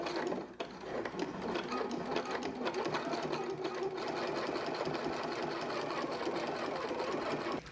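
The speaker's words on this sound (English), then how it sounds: "I just did the first edge stitch in the top stitch here" A sewing machine runs steadily for several seconds, edge stitching and topstitching barrel leg pants with white thread, a fast continuous whir close by with slight rhythmic chatter and no talk.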